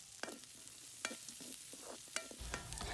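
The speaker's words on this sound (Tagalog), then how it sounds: "At dito inilagay na natin ang ating puso ng saging. Gisahin lang natin" Banana blossom sautéing in a pan, a soft steady sizzle broken by several sharp stirring scrapes and clinks, with the frying growing a little louder toward the end; no talking.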